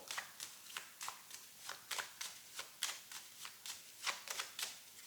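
Playing cards being handled and laid over one another during a tarot-style card reading: a steady run of soft, close papery flicks and slides, quiet and unhurried, with no talking.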